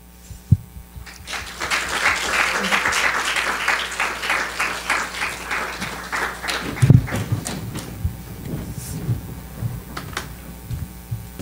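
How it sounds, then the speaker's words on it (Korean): Audience applause at a Korean youth volunteer program event, swelling from quiet into a sustained round of clapping in a hall, then tapering off with scattered claps under a steady room hum. "저희 단원들 소개할 때 큰 박수 부탁드리겠습니다"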